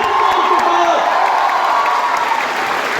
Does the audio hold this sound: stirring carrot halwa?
no